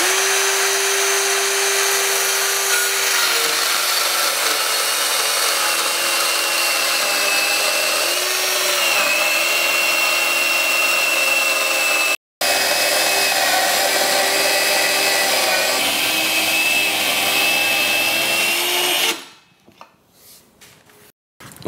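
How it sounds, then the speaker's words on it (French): A Bosch GKS 12V-26 cordless circular saw, guided by its rail, cuts through a 19 mm melamine panel with a loud, steady whine that runs for nearly twenty seconds and has a brief break partway through, then winds down. "Allez, on va couper ce panneau de mélaminé en 19 mm."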